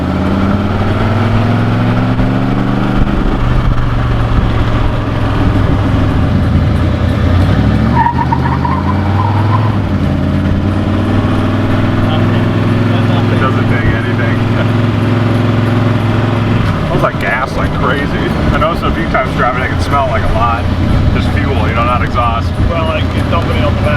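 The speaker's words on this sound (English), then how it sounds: "It's super loud on the highway with all the wind noise" Loud, sustained sports car engine drone on a highway with shifting pitch as the car accelerates, mixed with rushing wind noise and voices talking over it.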